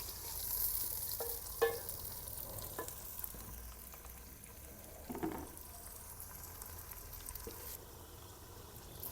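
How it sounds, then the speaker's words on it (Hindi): Chicken with gizzards and liver frying in a pan with onions: a continuous low sizzle and bubbling, broken by a few clunks of stirring, heard close with no talk. "इसको ना थोड़ा सा पहले फ्राई कर लेते हैं, चिकन से भी पहले"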